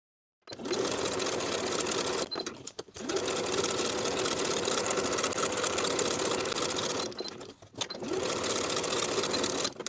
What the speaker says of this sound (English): Sew the side and upper edges with a 3/8 inch seam allowance.